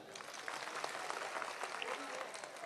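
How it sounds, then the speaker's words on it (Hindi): An audience claps through a religious discourse and question session at Karera, Shivpuri, giving a dense, steady patter of many hands that holds fairly constant for the whole stretch, with no clear talk over it. "ताली बजाओ।"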